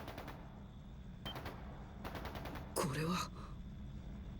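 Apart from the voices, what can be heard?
gunshots in the video game Trails into Reverie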